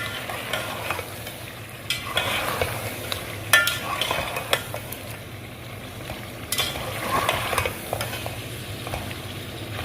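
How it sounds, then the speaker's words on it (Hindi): Tomatoes, chilies and sliced onions fry in a karahi with a continuous sizzle, while a spoon stirs and scrapes against the pan in uneven bursts, close and moderately loud, without speech. "और इसके बाद इसको हम चलाएँगे।"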